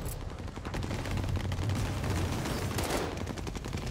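Sustained rapid automatic fire from an AS-44 assault rifle in Call of Duty: Vanguard, a dense, loud burst of shots running the whole length without pause, with no talk over it.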